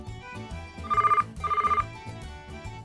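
A telephone rings indoors with two bursts of rapid electronic trilling, clear and fairly close, over quiet background music.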